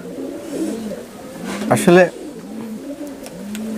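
A female golden pigeon coos in a few low, soft, throaty bursts near the middle, with someone talking close by almost throughout.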